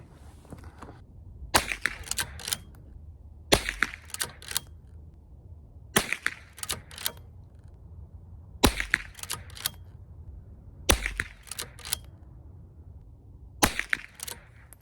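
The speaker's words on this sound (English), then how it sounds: "So anyway, we're gonna shoot 3 more shots." A Henry H001 .22 LR lever-action rifle fires at an outdoor 50-yard range: sharp cracks spaced a few seconds apart, each followed by clicking lever-action cycling, close and crisp, with no voices.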